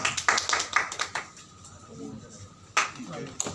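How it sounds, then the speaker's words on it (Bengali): Scattered hand claps from an audience at an award presentation, a quick burst of separate claps at the start, then a lull with a few more sharp claps near the end, all fairly close. "সবাই একসাথে জোরে হাততালি দিচ্ছে"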